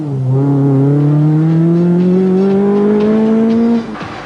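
Opel Manta rally car engine at the 1987 Ulster Rally, a loud sustained drone with rising pitch for nearly four seconds as the car holds throttle, then cutting off abruptly near the end.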